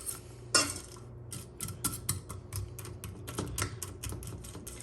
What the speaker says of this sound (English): I'm going to try to chop that up. And then I'm going to start moving it around in the pan.